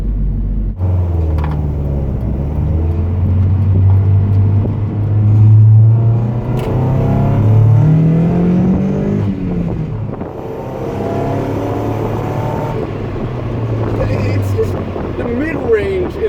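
A Mazda Miata fitted with DIY individual throttle bodies on a crude map drones loudly from inside the car, its engine note climbing and falling through the revs over rumbling wind noise.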